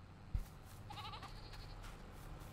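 A single farm-animal bleat from livestock in Farming Simulator 22 sounds briefly and faintly over a low ambient hum, just after a soft click.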